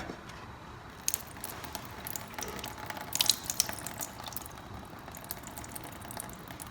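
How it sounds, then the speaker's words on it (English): Washed rava (semolina) drains into a kitchen sink under a lid held over the pot, giving a soft, continuous trickle with a few light clinks and splashes, quiet and with no talking. "I'm just covering with lid and draining so that my rava doesn't fall in the sink."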